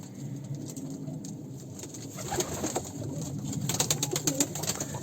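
Pigeons, including tumbler pigeons, coo softly amid constant rustling and fluttering, with light pattering of feet and wings in an enclosed loft, many birds close by.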